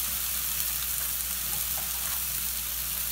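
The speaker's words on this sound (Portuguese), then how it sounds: "Agora eu vou fritar bem e refogar bem essa carne moída" Ground beef fries and sautés in a pan, giving off a steady, even sizzle that holds close and moderately loud throughout, with no voices.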